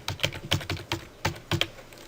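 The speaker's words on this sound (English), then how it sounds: "if you just start typing something" Keys clatter on a computer keyboard in a quick, uneven run of about eight crisp close taps with short gaps, alone and without voices.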